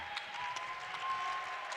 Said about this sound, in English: the Alma College faithful standing and applauding